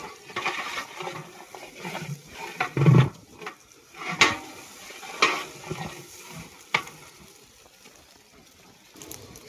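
Ginger garlic paste is stirred in a cooking pot, producing intermittent scraping and knocking of a spoon against metal with soft wet squelches, irregular and close, without speech.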